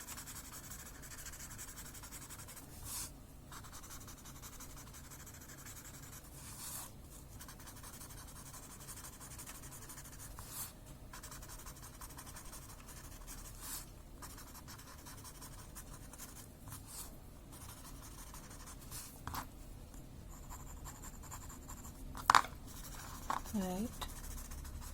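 A pencil blends and shades on paper, making a soft, close, continuous scratchy rubbing with short pauses between strokes. A voice speaks quietly over it now and then.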